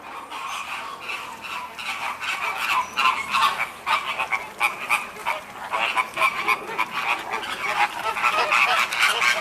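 Flamingos at the Sedgwick County Zoo enclosure keep up a continuous chorus of honking, goose-like calls, many birds overlapping at moderate distance with a busy, rhythmic chatter throughout.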